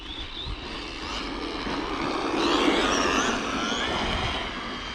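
An Arrma Vorteks 3S brushless RC car motor whines steadily at close range for the whole stretch, its pitch swelling and sweeping as the throttle is applied while the car is driven over pavement and a curb.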